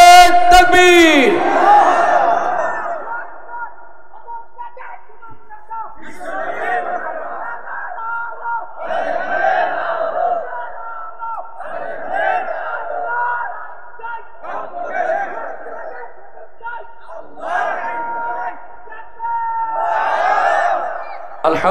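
A crowd at an outdoor political rally in Jhenaidah, Bangladesh, shouts back in unison after a takbir call. Several loud chanted responses recur at regular intervals, with a lead voice calling between them.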